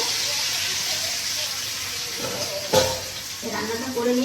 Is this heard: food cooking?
yes